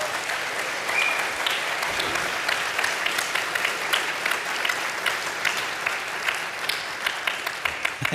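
Sustained audience applause at a live music event, a steady crackle of many hands clapping at moderate volume, with a few sharper claps standing out near the end.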